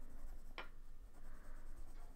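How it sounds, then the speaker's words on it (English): A white colored pencil is rubbed over a colored-pencil drawing of a hat to burnish and blend it, giving a faint, soft scratching with one sharper stroke near the start. "first I want to do some burnishing on the hat"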